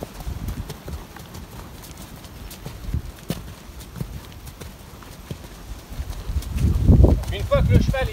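A horse canters with steady rhythmic hoofbeats, moderately close, over a light outdoor background, and a voice briefly speaks near the end.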